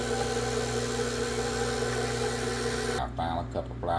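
An electric mixer beats caramel pecan pound cake batter with a steady, even motor hum. The hum cuts off abruptly partway through, and a person speaks afterward.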